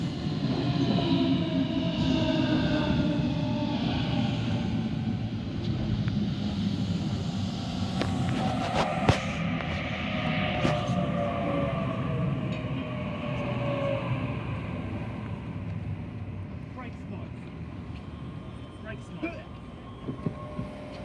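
A Waratah A48 passenger train pulls into a suburban station platform with a sustained rumble and a rising and falling whine of motors, plus a few sharp clanks, heard fairly close throughout.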